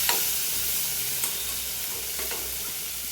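Onions and tomatoes fry in a pan with a continuous, loud, close sizzle that stays even throughout the short stretch.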